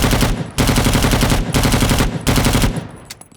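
Machine gun fire from a bipod-mounted weapon in the Vietnam-era shooter game Rising Storm Vietnam: three loud, close bursts of rapid automatic shots with short pauses between, ending abruptly as the belt runs out.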